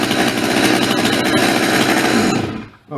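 Stihl MS200 chainsaw, its start cord just repaired, runs loud and steady at high revs close by for over two seconds, then cuts out and falls away near the end.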